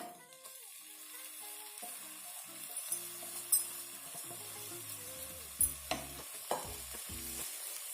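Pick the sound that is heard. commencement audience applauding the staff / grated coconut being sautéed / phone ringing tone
grated coconut being sautéed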